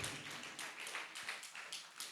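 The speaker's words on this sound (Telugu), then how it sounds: "మరి సేవకురాలకి మరి గట్టిగా చప్పట్లు కొడదాం" Church congregation clapping together for a woman minister, a close, continuous patter of many hands at an even, brisk rhythm with no voices over it.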